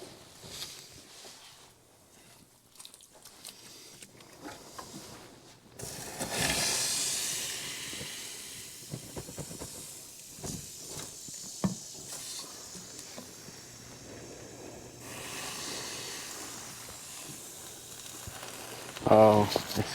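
A burning power steering hose with a sheath sizzles and hisses under a mini truck during a lowrider build, in soft intermittent bursts with other shop noise around it.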